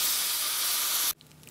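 A steam iron filled with a special liquid releases a loud, steady hiss of steam for about a second before cutting off abruptly, leaving faint background noise.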